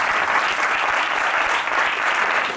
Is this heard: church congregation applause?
yes